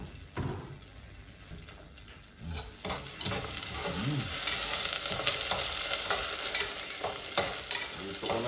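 Garlic is dropped into hot cooking oil in a casserole pot and stirred, with a quiet start and then a loud, steady sizzle that builds and holds. Clinks from stirring come through close up, with no talk.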